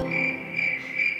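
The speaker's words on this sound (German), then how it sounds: "Wie macht eine Grille? Das sind Grillen." Crickets chirp in a steady, bright, continuous trill played back from a phone speaker, running alone without talk.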